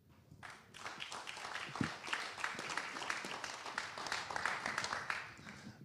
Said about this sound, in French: il est permis de les applaudir